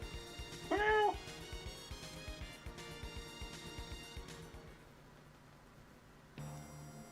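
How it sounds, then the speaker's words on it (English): A cat meows as an attack sound in a video game, one short clear meow near the start over a steady game soundtrack with a low hum, and no talking. "It's got a kitty cat attack noise"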